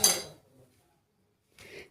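A spoon mixing warm ghee into sesame modak filling in a bowl gives two brief, close clinking scrapes separated by a stretch of silence.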